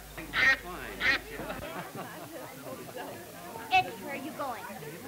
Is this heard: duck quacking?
yes